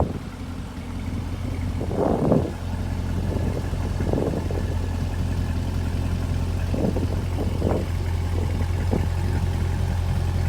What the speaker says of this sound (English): Dual mode exhaust system changes like they did in the C7s based on which mode you're in.